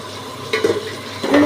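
Mutton pieces dropped into a pot of hot oil for pulao and stirred, a close sizzle with a couple of brief scraping stir strokes and soft clatter of the spoon.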